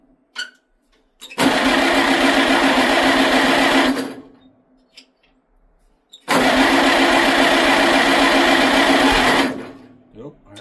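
A Farmall Super C tractor engine on full choke catches twice, each time running with a fast, rattling chatter for a few seconds before cutting out, close and loud, with brief voices in the gaps.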